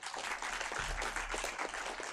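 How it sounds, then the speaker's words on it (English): Steady crowd applause at the valedictory ceremony of an international moot court competition, a continuous, fairly distant clatter of many hands throughout. "give a big clap to the team."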